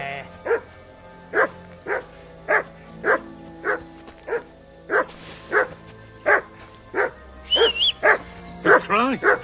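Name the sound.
dog barking in Kingdom Come Deliverance II video game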